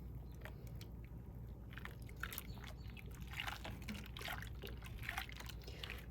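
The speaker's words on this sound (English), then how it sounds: "Can you see it bubbles?" A homemade eggplant-shaped bath bomb made with skin-softening oil fizzes and bubbles in water, giving a faint, steady crackling hiss with scattered tiny pops and drips throughout.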